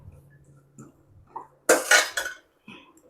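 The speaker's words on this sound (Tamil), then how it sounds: "அடுத்தது தேங்காய் துருவல். நல்லா மிக்ஸ் பண்ணிடுவோம்." A utensil scrapes and clatters in a pan as grated coconut is mixed into a lentil stir-fry, with a couple of short metallic bursts amid near silence and small clicks.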